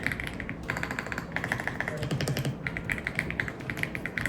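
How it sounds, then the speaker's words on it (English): Typing on an Aula F99 mechanical keyboard gives a close, quiet run of rapid crisp key clacks in uneven bursts, with a brief pause between flurries. "I also have my favorite keyboard, which is Aula F99 mechanical keyboard."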